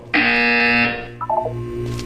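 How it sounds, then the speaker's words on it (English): A buzzer in the Portal 2 video game sounds as one loud, steady electronic tone lasting under a second. A few quick beeps and a soft hum follow. "You will hear a buzzer."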